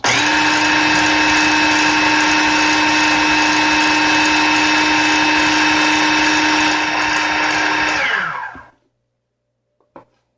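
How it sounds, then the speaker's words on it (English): Electric mixer blending chocolate and coconut, a loud steady high whine that runs unbroken for about eight seconds before winding down and cutting off, followed by a faint clink. "Let's go ahead and mix this up a bit."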